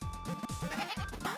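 A goat in a video game lets out several short, nasal bleats in quick succession, loud and close with no talk over them.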